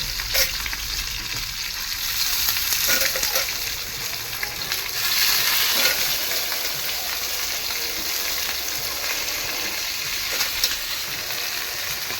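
Fish pieces frying in a pan in a home kitchen, a steady loud sizzle and crackle with occasional stirring, no talk.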